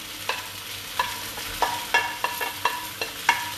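Bihun goreng being stir-fried with fried egg and sambal in a pan, with a quiet sizzle under about ten sharp, rhythmic scraping strokes of a spatula against the metal, close up and with no talking.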